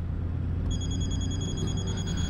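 A telephone starts ringing with a steady electronic trill and keeps going, fairly clear over a low room hum.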